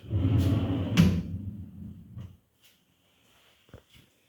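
A wooden wardrobe drawer slides open or shut with a rumbling scrape and a knock, followed by a quiet pause and a couple of small clicks near the end.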